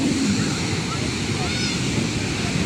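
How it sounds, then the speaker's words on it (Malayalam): Steady roar of surf washing ashore on a crowded Kerala beach, with wind noise and faint background voices throughout. "കടൽ തീരത്താണ്"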